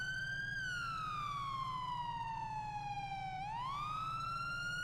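A primary police siren from the FiveM video game wails in a long, slow tone that falls gradually, then rises again, loud and steady over a low engine rumble.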